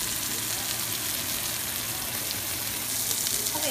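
Sirloin steak sizzling loudly in a hot pan as it is flipped, a bright continuous hiss and crackle close up, with no talking.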